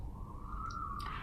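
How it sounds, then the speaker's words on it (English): An emergency vehicle siren sounds in the distance, a steady wailing tone that holds through the brief moment alone with no voices. "Sorry about that siren."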